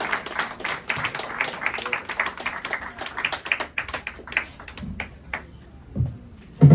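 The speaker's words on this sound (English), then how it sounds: "big round of applause for Grantley Haynes" Audience applause for a guest after an interview, moderately loud clapping from a small crowd that thins into scattered claps, with a few louder knocks and bumps near the end.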